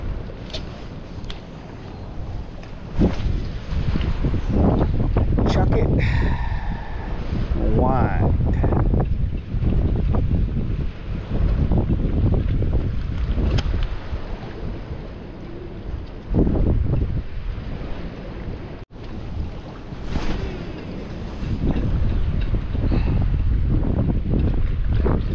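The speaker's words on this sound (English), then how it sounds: "Wind's dying down a little bit." Wind on open water while fishing from a boat on a winter day, a loud, continuous low rumbling buffet across the microphone with gusts rising and falling, while someone talks over it throughout.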